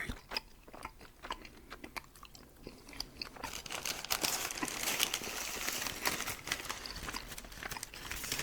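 Close, crunchy chewing of edible bug snacks, a continuous stream of crisp crackles and bites that grows busier and louder partway through, with no talking.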